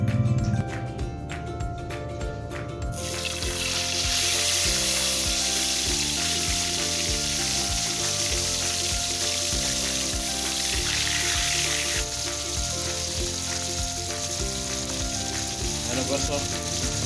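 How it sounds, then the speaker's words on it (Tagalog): Sasa fish, also called balamban, fries in hot oil with a loud, continuous close sizzle and crackle that stays dense and even throughout. "luto na yung ano, isda na balamban na prinito natin"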